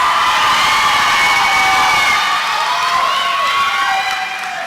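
A commencement ceremony crowd cheers and whoops loudly, with shouts and applause filling the hall in a dense, sustained roar that tapers off slightly toward the end.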